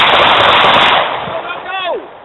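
Rapid handgun fire from .45 and 9mm pistols at a shooting session, a loud dense burst of overlapping shots that thins out after about a second, with a brief voice near the end.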